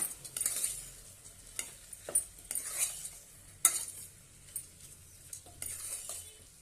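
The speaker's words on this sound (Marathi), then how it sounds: "छानपैकी परतून घेऊया" Vegetables for veg pulao sauté in a pan, a faint sizzle under repeated scraping stirs and light clinks of a spoon against metal, with no voices.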